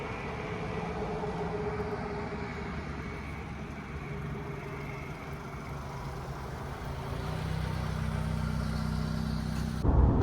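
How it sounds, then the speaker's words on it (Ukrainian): A Honda CR-V 2.2 diesel automatic 4x4 on a test drive gives a steady low engine drone with road rumble heard from inside the cabin. The engine note rises slightly toward the end, and there is no talking. "А зараз зробимо невеличкий тест-драйв."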